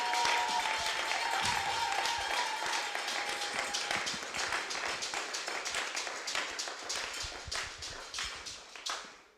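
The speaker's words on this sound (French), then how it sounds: "acclamation and shouting of joy." Church congregation clapping and cheering during worship, dense rhythmic clapping that grows sharper and more regular, with a held vocal tone early on, then cuts off abruptly.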